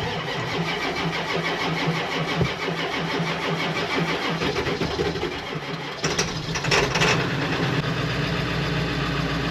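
An old 7.3 Power Stroke diesel in a short bus cranks and fires, settling into a loud, rough, clattering idle that holds steady close by.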